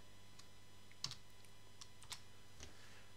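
Soft keystrokes tap out a short word on a computer keyboard, a handful of light, spaced clicks close by over a low steady hum.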